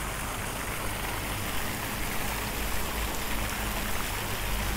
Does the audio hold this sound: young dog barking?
no